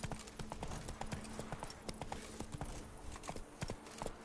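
Geralt's horse Roach galloping in The Witcher 3, rapid rhythmic hoofbeats continuing throughout, close and steady over a low ambient game background.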